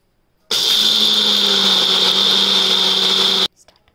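A mixer grinder grinds roasted, peeled peanuts in one loud, steady whirring burst of about three seconds. It starts and stops abruptly, with faint clatter afterward.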